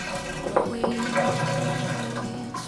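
A campsite toilet at a beach campground flushes after water is turned on, a steady rushing, gurgling wash of water running for a few seconds at close range, with a brief hiss of refill near the end.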